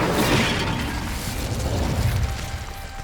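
The Incendio fire spell in Hogwarts Legacy erupts as a loud, whooshing fiery burst with crackling roar that fades over a few seconds, close and alone.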